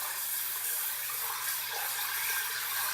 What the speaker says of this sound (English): I'm going to heat up my blade in hot water